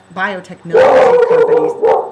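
A pet dog barks and whines loudly at strangers, a drawn-out yelping burst close by that overlaps someone speaking, with his voice heard just before it.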